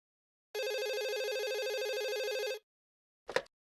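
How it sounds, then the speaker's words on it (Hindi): An electronic telephone ring plays as one sustained, warbling trill for about two seconds. A short click follows after a pause, and there is no talk. "इस फोन को भी अभी बजना था"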